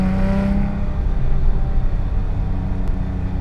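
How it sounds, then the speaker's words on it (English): A 2007 Porsche 911 GT3 RS cruises over a very bumpy road, its exhaust a steady low drone with the tight suspension thumping underneath, close and continuous with no talking. "You just hear the suspension working. You hear your exhaust."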